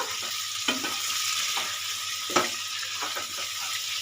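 Chicken with masoor dal frying in a pan with garam masala, stirred by a spatula: a steady, close sizzling hiss broken by a few scraping strokes against the pan, with no voices.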